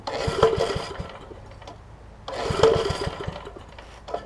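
Old 5hp Briggs & Stratton engine on a 50-year-old Merry Tiller being pull-started, two separate rasping cranking attempts with brief sputtering, close up and loud, with a pause between them.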